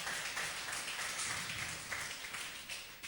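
A church congregation applauds during a sermon, a faint, steady wash of many hands clapping continuously at a distance.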